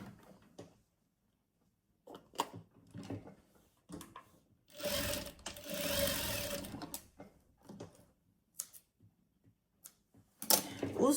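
A sewing machine stitches fabric for a Christmas Advent calendar in short whirring runs, with one long, loud burst in the middle and handling clicks between runs.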